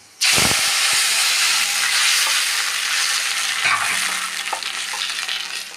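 Blended tomato thinned with water is poured into a hot pan for pepper rasam, setting off a sudden loud sizzle that holds as a steady steaming hiss, with stirring clinks and the sizzle easing toward the end.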